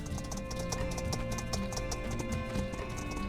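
Rhythmic clip-clop of horse hooves at a steady trot in the video game My Time at Sandrock, over a sustained musical background, with no talking.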